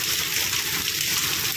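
Heavy rain pouring and gushing water during Typhoon Kristine in the Cavite area, a dense, steady, loud wash of noise with no pauses or voices.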